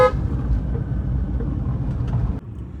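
Congested road traffic near Nakraunda, with a near car horn tooting sharply at the start over a steady rumble of idling and slowly moving vehicles, and further faint honks later.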